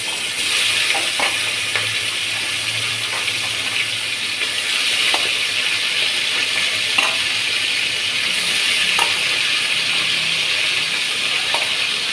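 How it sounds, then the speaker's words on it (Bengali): Malabar spinach with spice tempering frying in hot oil, a steady bright sizzle throughout with occasional spatula taps and stirring, close and fairly loud, no voices. "এবার পুঁই শাকটা ফোড়ন দিয়ে নিই।"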